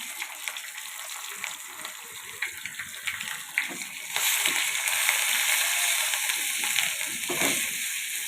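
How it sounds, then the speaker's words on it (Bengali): Garlic sizzling and frying in a pan, then a louder, denser sizzle as ground onion paste goes in and is stirred, steady and close with no talking. "দেখো আমার রসুনগুলো ভাজা ভাজা হয়ে এসেছে। তো এর মধ্যে দিয়ে দেবো আমি বেটে রাখা পেঁয়াজগুলো।"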